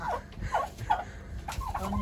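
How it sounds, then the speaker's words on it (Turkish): Turkeys at a poultry market gobble in several short, wavering bursts, fairly close, with soft background noise and no speech. "Burada bayağı da hindimiz var"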